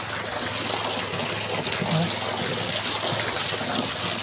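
Strong water flow fills a pool on a farm, a continuous rushing, trickling wash heard up close at steady volume, with a person talking faintly beneath it.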